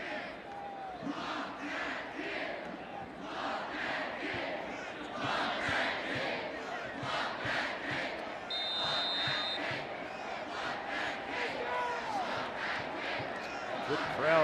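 A large crowd roars and chants throughout at Reynolds Razorback Stadium during an Arkansas versus Mississippi State SEC college football game, a dense sustained stadium noise with rhythmic surges.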